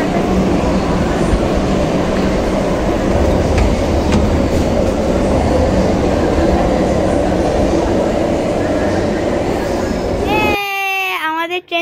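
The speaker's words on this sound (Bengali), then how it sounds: "আমাদের ট্রেন চলে এসছে।" Kolkata Metro train pulling into New Garia station with a loud, steady rumble and clatter that holds for about ten seconds before cutting off. A voice talks over the end.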